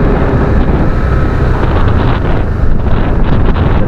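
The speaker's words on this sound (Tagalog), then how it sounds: "Lakas ng hangin, no?" Heavy wind roars and buffets the microphone continuously, loud and unbroken, with a rushing, water-like wash underneath.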